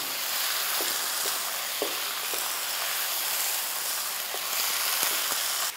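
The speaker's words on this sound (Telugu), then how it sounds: "ఇలా చికెన్ ముక్కల్ని కూడా ఆయిల్లో వేసుకొని మంచిగా ఒక 5-6 నిమిషాల పాటు వేయించుకోండి." Brined chicken pieces fry in hot oil for a spicy chicken curry, giving a dense, even hiss and sizzle with a few faint pops and clicks, close and steady throughout.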